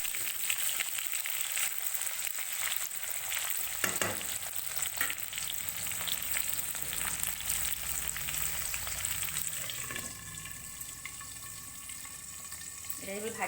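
Potatoes fry in hot oil in a pan with a steady, soft sizzle, broken by a few sharp clinks and scrapes of stirring and a faint background hum.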